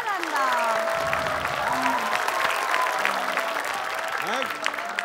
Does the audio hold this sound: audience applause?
yes